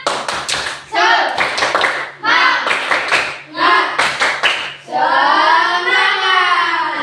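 Sixth-grade schoolchildren in a classroom do rhythmic 'tepuk semangat' clapping, chanting together between loud bursts of patterned hand claps and ending on a long shouted cheer.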